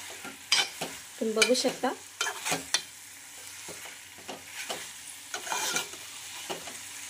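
Spicy mashed eggplant bharit being stirred and fried in a pan: steady scraping strokes over a soft sizzle, with a brief spoken remark early on.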